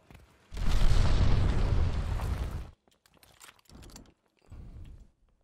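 An enemy glide bomb exploding in the Call of Duty Vanguard video game: one loud, close blast roaring for about two seconds, then faint scattered debris and clatter.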